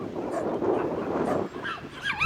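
A group of small yappy dogs in a small town bark and whine, a continuous close jumble of yaps with a few high whimpers near the end.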